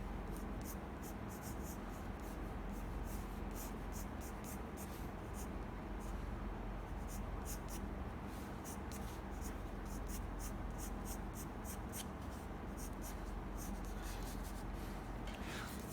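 A pencil draws curving, organic lines of a natural leaf on paper, giving a continuous close-up scratching and rubbing with frequent short stroke bursts over about sixteen seconds, without talk.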